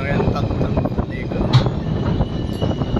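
The Andhra Pradesh Express rolls along loudly as it slows, with a steady rumble, rattling wheels and a brief squeal close by, under scattered voices.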